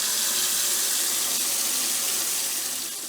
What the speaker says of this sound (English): filled the paddling pool with very cold water